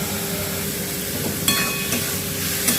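Sliced onion fries in a pan for potato chops, a steady loud sizzling hiss broken by a few brief utensil clinks from stirring.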